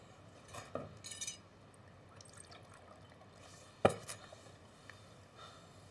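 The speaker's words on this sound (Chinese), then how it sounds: "倒水。" Water is poured quietly in a period drama scene, with faint liquid trickling, soft clinks of a cup or dish and one sharp knock midway.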